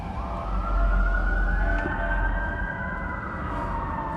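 Emergency sirens from fire trucks and ambulances on a Denver street at night, a steady wailing tone sweeping up and down at moderate distance over low road rumble and traffic noise, with no talking.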